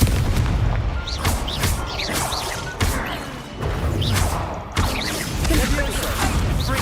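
Repeated booming blasts and crashing impacts from the Confringo explosive spell in Hogwarts Legacy, several loud hits a few seconds apart amid whooshing spell effects, with a voice shouting over the action.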